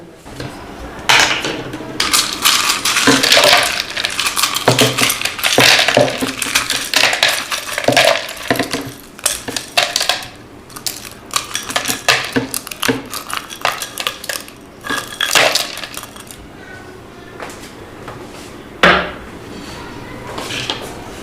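Ice cubes clatter and clunk into a blender jar in irregular bursts of hard knocks, some louder than others, with short pauses between.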